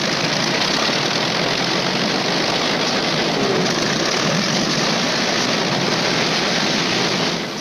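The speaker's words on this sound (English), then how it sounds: "Out on the line, General Moore's P-51s are warming up for the longest fighter flight on record." Several World War II P-51 fighter planes sit on the flight line with their piston engines warming up, producing a steady, loud, continuous propeller drone with no breaks.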